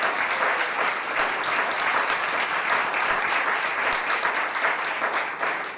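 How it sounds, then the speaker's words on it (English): Dense, sustained audience applause fills a ribbon-cutting ceremony at the National Opera Center, with many hands clapping steadily and loudly throughout and no break in the sound. "If you keep clapping, I may have to play the piano."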